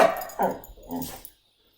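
A pet dog barks and yips a few times up close inside a home, in short bursts over about a second before falling silent.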